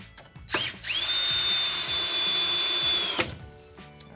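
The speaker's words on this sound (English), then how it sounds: "next I'm going to screw it in between my two studs here" Power drill driving a screw into wooden blocking between wall studs during a shower valve rough-in, one steady high whine lasting a few seconds, close by, then stopping abruptly.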